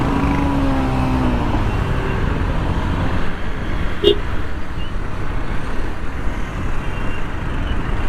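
Dense road traffic on the approach into Hyderabad, heard from a motorbike: a loud, steady roar of engines and tyres with rushing wind, continuous throughout, with one brief high tone near the middle.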